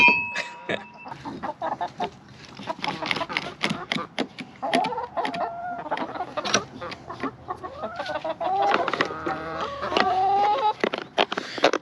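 Chickens clucking and squawking continuously at close range, busy and overlapping, with sharp scratchy knocks mixed in.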